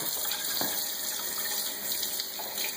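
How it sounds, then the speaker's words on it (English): Water runs steadily from a kitchen sink faucet while a child plays with it, a constant close hissing stream with faint splashes and a light knock against the basin. "You want to put water on the dish? Oh, you want to wash the dishes, huh?"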